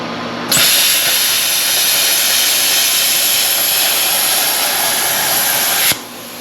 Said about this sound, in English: Might have to go plug in a grinder.